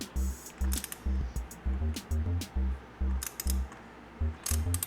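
A wrench works the welded 17 mm nut on a K&N oil filter of a Moto Morini X-Cape 650 motorcycle, giving a steady series of close, rhythmic metallic ratcheting clicks with a few brighter ticks.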